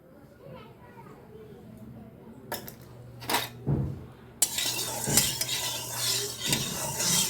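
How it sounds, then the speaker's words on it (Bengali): Oil poured into a preheated kadai starts a loud, broadband sizzle partway through that continues to the end, with a few utensil knocks before it and a voice speaking over the cooking. "আমি তেল দিচ্ছি"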